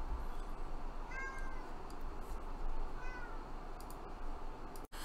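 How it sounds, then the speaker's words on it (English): A house cat meows and yowls a few times, insistent cries to be let out of a room, fairly near and clear over a steady background hum, with no talking. "that was my cat screaming to get let out of my room"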